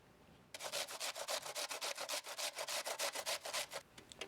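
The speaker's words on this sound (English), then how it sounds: "So the first thing I'm gonna do is I'm gonna grate this onion." An onion is rubbed against a grater in quick, even strokes, a rapid rhythmic run of about two dozen rasping scrapes that starts abruptly and stops near the end, close and alone in a quiet kitchen.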